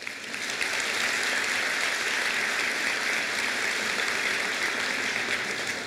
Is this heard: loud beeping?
no